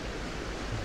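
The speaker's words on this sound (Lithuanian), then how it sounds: "Iš kalnų teka upelis." A mountain stream in Svalbard in the Arctic rushes steadily downhill, a brief, continuous wash of flowing water with no pauses or distinct splashes.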